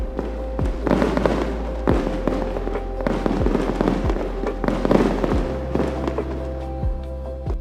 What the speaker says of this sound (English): the Fête du Lac takes place with a large-scale fireworks display over the water